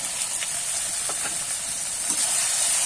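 Chopped tomato sizzles as it hits hot oil in a frying pan while cooking a Bengali bhetki fish-bone chorchori, a loud steady hiss throughout with faint stirring clicks and no talking.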